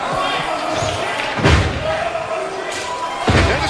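In an Impact Wrestling match, a tennis racket strikes a wrestler with two sharp, loud thwacks about two seconds apart, heard over steady crowd noise and ringside commentary.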